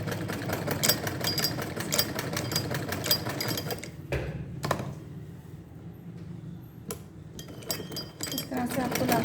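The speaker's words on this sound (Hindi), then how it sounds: "यहाँ पे एक सिलाई लगा देनी है ताकि इलास्टिक ओपन ना हो जाए आपके" A sewing machine runs in a fast, rattling chatter while stitching elastic onto a bloomer. It pauses briefly midway, then resumes, and a person talks over it in Hindi.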